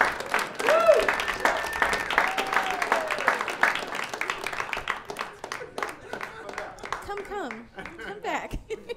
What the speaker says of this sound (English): Give another round of applause, everybody